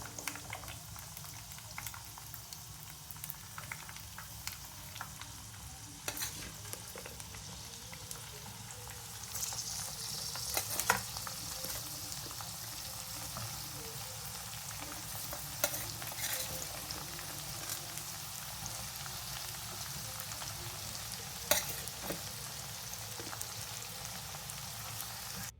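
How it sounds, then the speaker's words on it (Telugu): Bitter gourd pieces fry in hot oil with a steady, moderately loud sizzle and bubbling, with occasional clinks of stirring throughout; no one speaks. "సో ఇప్పుడు ఆయిల్ వేడిగా అయిపోయిందండి. మనం ఇప్పుడు యాడ్ చేద్దాము బిటర్ గార్డ్స్."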